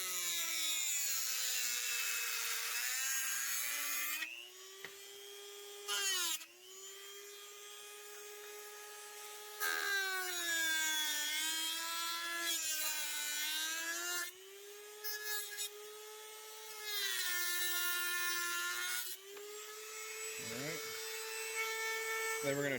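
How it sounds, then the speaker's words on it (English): Dremel cutting wheel slicing straight across a holster sweat shield, a loud sustained high whine that dips and restarts in several long passes, close to the listener, with no speech. "So we're going to cut here, and we're going to cut here. Whiz wheel, Dremel,"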